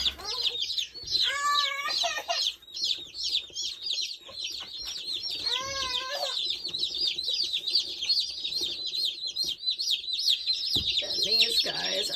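Baby Cornish Rock Cross meat chicks peep constantly in a dense, high chorus of overlapping chirps close by, with a few louder individual cheeps standing out.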